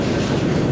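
A quick drum roll builds suspense before a jury's verdict at a local talent show contest in Brielle, a dense, steady rumble of rapid beats lasting under a second.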